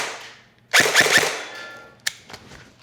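Airsoft gun shots ring out on an Evike target system at an indoor range, a quick burst of three sharp pops followed by a couple of fainter clicks and taps, close by with no talking.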